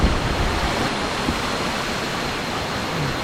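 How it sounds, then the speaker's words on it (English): A waterfall on Koh Samui, Thailand roars as a dense, steady rush of broadband water noise, close and loud with no break and no talking. "There's a split fall over there to the left as well."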